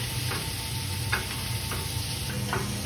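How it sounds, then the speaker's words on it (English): Meat being basted with melted butter, thyme and rosemary in a hot pan, a steady close sizzle with soft spoon scrapes and splashes recurring every half second or so, no voices. "Keep basting it. Don't worry if your butter goes brown"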